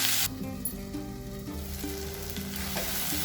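Chopped tomatoes sautéing in a hot pan for a prawn and egg curry, a bright continuous sizzle with crackling spits and faint stirring, close and alone.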